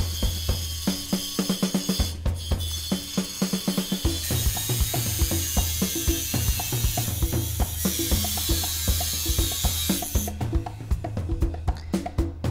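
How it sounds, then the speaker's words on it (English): A saw cuts an excess tab off a TIG-welded bicycle frame dropout, giving a steady, rapid ratcheting metal chatter that runs the whole time, close and loud, with no talk. "And here I am parting off the excess"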